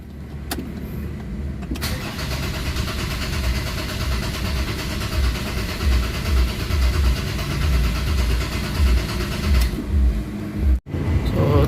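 A Ford Ranger common-rail diesel turns over and fires, then settles into a steady, loud idle close by, broken by a sharp click and a brief dropout near the end.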